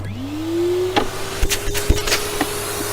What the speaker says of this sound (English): And now, will it operate the Hoover?